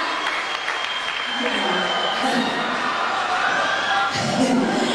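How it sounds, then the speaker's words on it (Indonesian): Audience applause and some cheering in a group gathering, a broad wash of clapping and crowd noise that holds steady throughout, with voices mixed in. "tepuk tangan buat anda sekalian"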